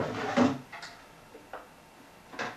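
An antique wooden cabinet drawer with brass pulls knocks and slides in a few brief, soft thumps and scrapes, spaced apart in a quiet room.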